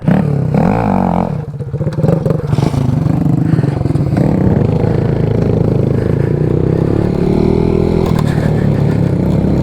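A BMW GS Rally Adventure motorcycle on a Touratech tour, heard as a loud, close, continuous engine drone with revving and rattling clatter over rough ground, dominating throughout.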